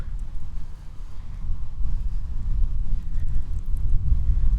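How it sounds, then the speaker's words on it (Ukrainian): Low, blustery wind rumbles against the microphone on a hilltop overlooking the river in Kyiv, a steady muffled roar that thickens partway through, with no voices. "Щось тут якось трошки вітряно."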